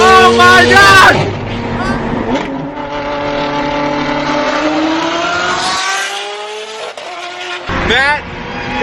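Ferrari engine howling as it accelerates past at close range, loud and rising, then briefly dropping away before surging back near the end, with excited voices mixed underneath.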